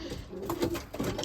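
Racing pigeons in a loft give soft, repeated cooing, a few low throaty coos rising and falling close by, with no talk.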